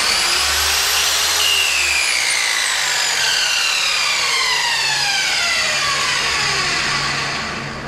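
A miter saw running off-grid in a shipping container gives a loud, close, high-pitched whine that sweeps down in pitch as the motor spins down.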